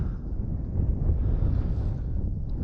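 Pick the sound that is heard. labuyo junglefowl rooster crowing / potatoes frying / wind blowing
wind blowing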